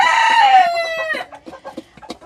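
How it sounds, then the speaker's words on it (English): A rooster crows loudly and close, its long call bending downward, then hens in a coop break into short, scattered clucks that fade toward the end. "These are the hens."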